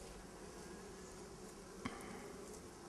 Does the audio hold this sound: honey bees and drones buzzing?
yes